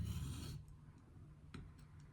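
80CRV2 steel knife drawn across a DMT 600 grit diamond plate: one short rasping stroke, then faint scrapes and light taps, close and quiet.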